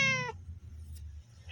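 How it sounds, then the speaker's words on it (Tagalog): A pet cat gives one short, clear, close meow at the start, followed by quiet low background noise. "Meow, meow."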